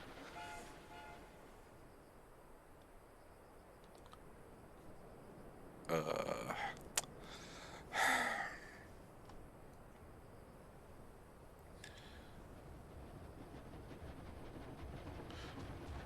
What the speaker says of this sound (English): I shall stop this runaway wolf train!